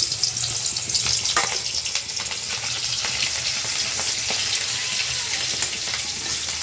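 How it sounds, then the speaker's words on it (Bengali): Fish frying in oil in a hot wok, a steady loud sizzle and crackle that holds throughout with small bursts of spatter, close to the pan, with no talking. "এখানে মাছ ভাজার জন্য দিয়ে দিলাম"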